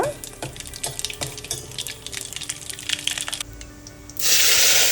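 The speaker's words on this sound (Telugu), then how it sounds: "ఆవాలు జీలకర్ర ఎండుమిర్చి వేసుకోవాలి ఇవి కొంచెం ఫ్రై అయిన తర్వాత" Mustard seeds, cumin and dried red chillies fry in hot oil for a village-style sambar, with small scattered pops and crackles over a steady sizzle, ending in a louder, fuller hiss.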